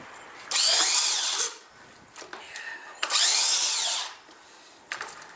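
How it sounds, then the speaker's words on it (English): Power mixer churning wet sawdust and shredded paper for homemade logs, two loud whirring bursts about a second long each, separated by quieter handling noises. "I'm just going to get the mixer and start mixing"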